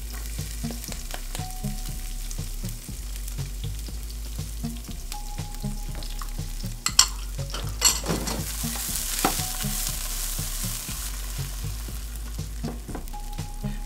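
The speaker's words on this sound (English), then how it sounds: "Now we're gonna let this saute for about 2 or 3 minutes." Garlic and onions sauté in olive oil in a pan for curry chicken, giving a steady close sizzle with repeated scraping strokes of a stirring utensil and a few louder clatters midway.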